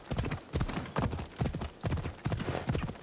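A horse gallops in Assassin's Creed Odyssey, hooves striking in quick, even clusters of beats repeating roughly every half second, close and clear with no talking over them.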